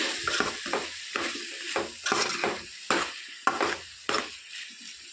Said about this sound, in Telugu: ఇప్పుడు కూరని మనం మరొకసారి కలుపుకున్నాం